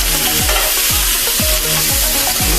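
Steaks turned on a hot grill sizzle loudly and continuously, with a steady hiss and a regular series of low scraping strokes roughly every half second, close and without talk.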